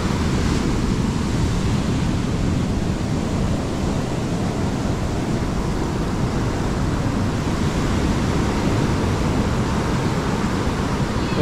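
Heavy storm surf on a Crimean beach churns as a continuous, broad roar with gusts of wind, steady and close for the whole stretch, and nobody speaks.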